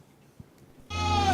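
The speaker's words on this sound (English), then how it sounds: "These are our goats." A goat lets out one loud, close, wavering bleat that starts abruptly after a near-silent stretch and holds to the end.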